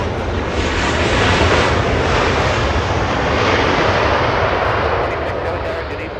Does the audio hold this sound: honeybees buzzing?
no